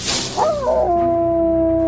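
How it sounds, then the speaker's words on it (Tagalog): Creature letting out a dog-like howl in a forest at night, a single long, rising then sustained wail following a brief rustle, loud and near, no speech. "bigla na lamang itong umalulong na parang aso"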